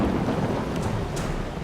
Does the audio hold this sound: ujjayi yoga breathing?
no